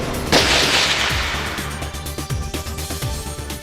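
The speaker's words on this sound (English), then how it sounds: "Confine gunpowder within a metal barrel, add a projectile, and pull the trigger." A gunpowder firearm discharges a bullet: one sharp loud report followed by a long decaying echo and rumble, alone with no speech.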